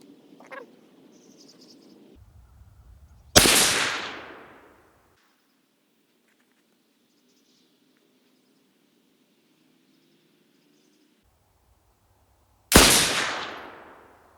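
Two sharp, loud rifle shots from a 25 GPC varmint rifle firing Sierra 90-grain HPBT bullets over BLC-2 powder, each with a decaying echo, separated by about nine seconds of near silence with faint outdoor noise.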